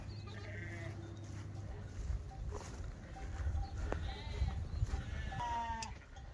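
Sheep bleat near a farm enclosure where young mastiff dogs are out with lambs; several bleats rise over a rumbling, breezy outdoor background with some shuffling.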